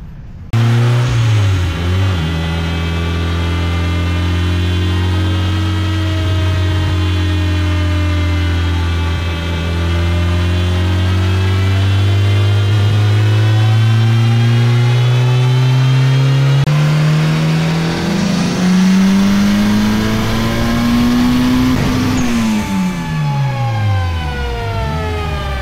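A turbocharged D16 engine in a Honda Civic howls through a long, loud dyno pull, its pitch climbing steadily for over twenty seconds before the throttle closes and the revs fall away.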